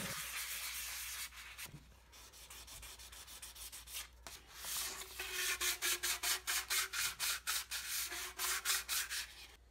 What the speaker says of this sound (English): Go over the fins, the stake, and the 22-inch length of 1-inch PVC pipe with 400 grit sandpaper.